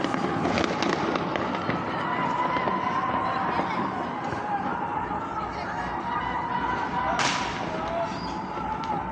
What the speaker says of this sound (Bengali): এলে মানুষ এই আতশবাজি করে ছাদের উপরে